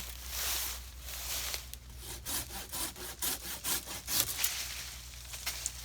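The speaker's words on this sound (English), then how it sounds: "the pruning saw, sometimes you're going to score on the bottom when you're doing a branch like this" A pruning saw cuts through a tree branch outdoors on a small farm trail, its rhythmic push-pull rasping strokes close and steady, quickening into a run of distinct strokes midway.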